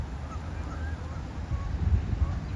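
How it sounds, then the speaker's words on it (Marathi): Geese rise one by one from beside a pond in autumn, letting out faint, thin honks that sit low under a steady outdoor hiss. "तिकडे हे गूज म्हणून पक्षी आहेत ते बसलेले आहेत आणि मी जाते म्हणून ते आता उडतायत एक एक"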